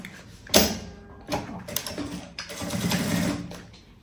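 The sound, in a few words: sewing machine stitching a quilted puffer tote bag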